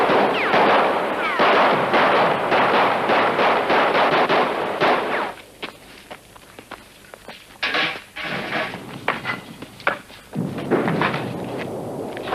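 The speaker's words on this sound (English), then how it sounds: "Commence firing." Artillery fires in rapid repeated heavy bursts, loud and dense at first, then thinning into scattered booms and cracks with brief gaps, distant rumble between shots.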